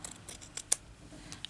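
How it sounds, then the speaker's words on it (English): Scissors snip fabric for crazy patchwork in a few short, crisp cuts, the loudest near the middle, with quiet room tone between them and no talking. "I'm going to cut that bit off there."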